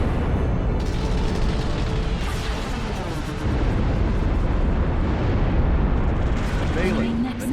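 Sustained, loud rumbling explosions roll on as bombers strike a nexus in the strategy game Ashes of the Singularity: Escalation, a dense roar of blasts with a voice briefly audible late on.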